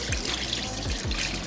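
Dirty cleaning water poured into a kitchen sink, a continuous splashing, gurgling flow close by with no talk.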